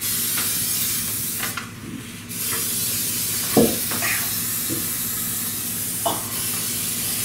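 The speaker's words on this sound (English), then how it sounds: "So, Lucas, I need you to spray the inside of this dish" Cooking spray hisses into the inside of a ceramic baking dish in a home kitchen, several short spritzes and soft clinks standing out over a constant background hiss.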